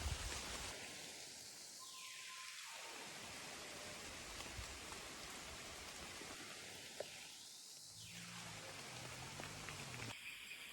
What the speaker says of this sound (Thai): ตอนนี้ฝนเริ่มจะเทลงมา แล้วนะครับ